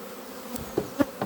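Honeybees buzz close by during a hive inspection. A steady hum carries a few louder passes as bees fly near.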